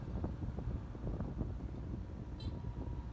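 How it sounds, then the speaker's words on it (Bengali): Strong wind gusts buffet the microphone on a sea beach at Cox's Bazar, a low rumbling roar that runs steadily throughout, fairly faint, with no voices. "অনেক সুন্দর বাতাস এখানে, আর অনেক বড় বড় ঢেউ।"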